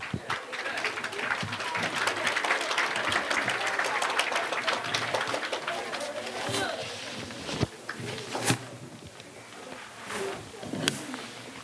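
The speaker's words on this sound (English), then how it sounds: "big round of applause for Mrs. Evans' class" A school crowd at a DARE graduation claps for a class, dense applause for several seconds that thins out into scattered claps while a voice talks over it.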